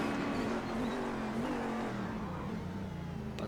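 A race car engine in the iRacing sim as the driver lifts off the throttle, a steady close engine drone with tonal harmonics sliding down slightly, continuous and loud with no talk.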